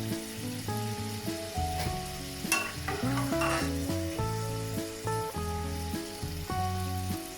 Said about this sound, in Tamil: நான் இனி எண்ணெயில இருந்து வடிச்செடுக்கிறேன்.